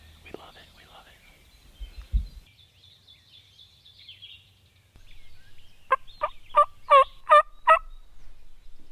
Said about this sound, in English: There's toms gobbling back where I roosted some the other night.